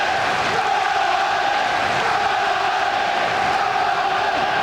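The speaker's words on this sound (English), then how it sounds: "And so the crowd now." Football stadium crowd at a Premier League match between Sunderland and Aston Villa, a loud, dense, continuous roar and cheer filling the whole stretch without a break.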